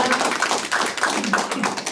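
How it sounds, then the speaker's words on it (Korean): Brief round of applause for a chairman at a Northeast Asia peace conference, a few seconds of scattered, fairly close hand claps without voices. "김영주 회장님께 큰 박수 부탁드립니다"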